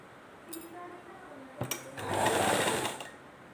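A sewing machine stitches a blouse hook strip (hooks patti), starting with a few light clicks and then running in one steady whirring burst of about a second before stopping.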